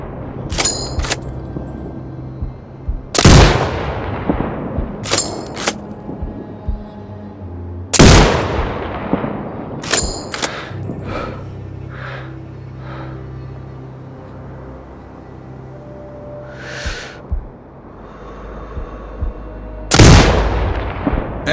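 Sniper rifle fire in the video game Sniper Ghost Warrior Contracts 2: three loud, sharp shots spaced several seconds apart, with fainter cracks and low ambient game rumble between them.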